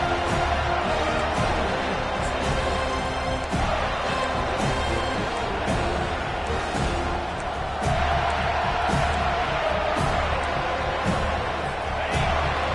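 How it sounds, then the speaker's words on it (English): A packed college football stadium crowd roars continuously during a Wake Forest at Florida State game, a dense, loud, sustained wall of noise cheering on the defense. "Listen to this crowd just shaking the girders of this place trying to help their defense."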